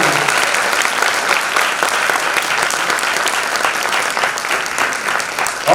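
A theatre audience at Shahid Bhawan in Bhopal claps loudly and continuously after a Hindi stage play, a dense, even roar of applause with no pauses, close and full throughout.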